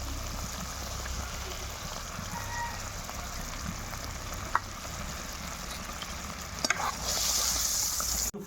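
Poppy seed paste and whisked sour yogurt masala frying in a pan for a doi katla fish curry, a steady close sizzle with occasional clinks and a brief louder hiss near the end.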